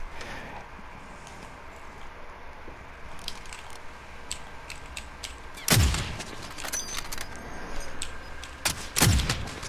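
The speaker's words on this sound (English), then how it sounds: "Oh, he shot me." Scattered gunshots crack during a Call of Duty: Modern Warfare match, with two loud, sharp nearby shots standing out among fainter distant pops and clicks.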